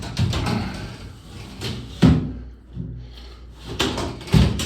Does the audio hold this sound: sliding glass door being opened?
yes